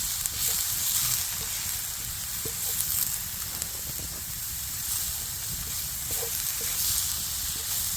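Food sizzles on a grill over campfire coals at a winter camp, giving a steady frying hiss with faint pops and crackles. No one speaks.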